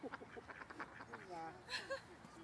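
Ducks quack in short bursts at a lakeside campsite in New Zealand on the way from Wanaka to Queenstown, mixed with other bird calls and someone talking over them.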